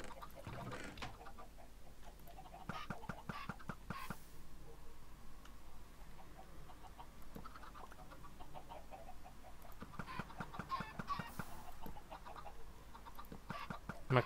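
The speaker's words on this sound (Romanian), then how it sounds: "Măcar să mai spawneze aici ceva găini." Chickens cluck in a Minecraft-style video game while a player gathers them, short repeated clucks mixed with steady clicking and other game effects, fairly even in loudness throughout, with no talk.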